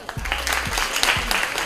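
An audience applauding at a school quiz competition match, a steady wash of clapping from a crowd with some low voices and thumps mixed in.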